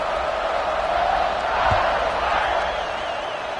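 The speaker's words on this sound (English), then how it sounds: "this crowd is buzzing after that last score" Steady, broad murmur of a large football stadium crowd at a Washington versus Notre Dame game, buzzing continuously with a faint low thump midway and no distinct cheer peaks.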